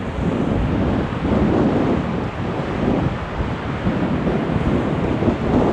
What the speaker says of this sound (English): due to the high winds